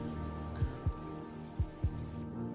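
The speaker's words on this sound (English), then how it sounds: "just let the rain fall on us and let our feet hit the ground" Rain falling outdoors in a natural setting, a soft steady patter with a few louder drops landing close by at irregular intervals.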